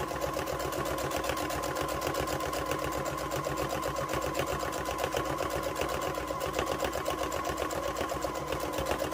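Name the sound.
sewing machine stitching fabric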